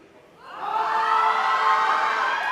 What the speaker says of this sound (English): Rania's got quite the crowd, as we can hear.